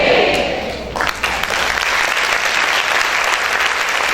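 Church congregation breaking into strong applause, a sudden swell of many hands clapping that starts after a brief quieter moment and then carries on steady and dense to the end.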